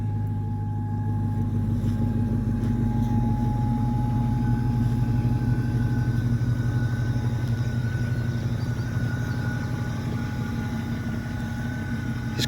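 A 1979 Pontiac Trans Am with an LS engine swap idles steadily after a remote start, a deep, even rumble running unbroken and fairly loud throughout.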